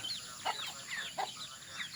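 Chickens at a broiler chicken slaughterhouse clucking faintly in the distance, two short cluck bursts standing out over a quiet background of bird chatter.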